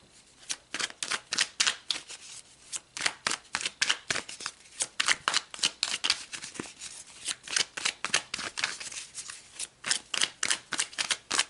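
A deck of tarot cards shuffled close up, with crisp rapid riffles in steady repeated bursts that run for the whole stretch and stand clearly alone.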